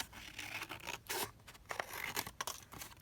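Scissors trimming a piece of cardboard packaging at a desk, heard as quiet close snips and crisp tearing-like cuts in short uneven bursts, with light crinkling between strokes.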